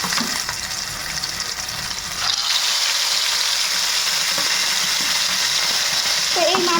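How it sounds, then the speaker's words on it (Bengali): Aila fish frying in hot mustard oil gives a steady, loud sizzling hiss that grows denser after the fish goes in, with faint scraping clicks near the end. "তো তেলটা গরম হয়ে গেছে, আর এখন এই যে মাছগুলো এবারে ভেজে ফেলবো।"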